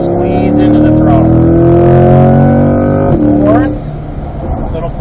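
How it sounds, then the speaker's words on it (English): Corvette on a racetrack hot lap, a loud in-car engine drone with a brief gear change around the middle and a drop in intensity afterward, with a driver speaking over it. "release the brake, get down to my curve, squeeze into the throttle."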